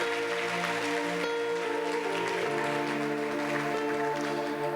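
A church congregation claps together in a steady, sustained round of applause that lasts throughout, layered over held keyboard or organ chords.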